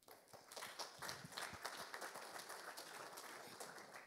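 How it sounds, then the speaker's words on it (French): An audience at the Agile en Seine 2021 conference applauds to welcome a speaker to the stage, a steady wash of many hands clapping that holds for the whole stretch, with no talk over it. "je vous demande d'accueillir et d'applaudir Kim Benour."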